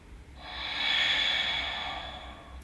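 A single long, deep exhale during a yoga flow, a close, airy breath that swells and then fades over a couple of seconds.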